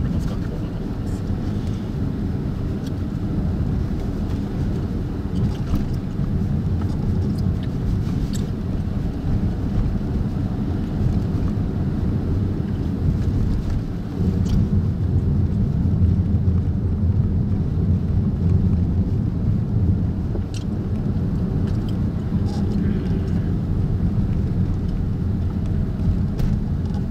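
A car driving at night through the city streets of Sakata, Yamagata, with a steady low engine and road rumble and broadband wind-like noise throughout, and a person talking over it.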